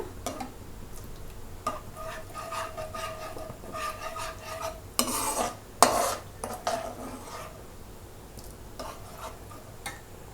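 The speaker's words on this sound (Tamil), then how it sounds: "பொரிச்சு வச்சுருக்க சிக்கன் துண்டுகளெல்லாம் வந்து இதில் போட்டு மிக்ஸ் பண்ணிடலாம்" Fried chicken pieces stirred into a thickening orange sauce in a pan, with repeated spoon clinks and scrapes against metal, a couple of louder clattering bursts midway over a faint bubbling background.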